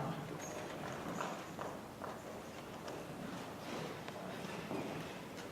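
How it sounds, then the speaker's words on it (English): Horse hooves clip-clopping at a slow, steady walk, moderately close, over a constant outdoor background hiss. "they're bringing my horse from the stables now"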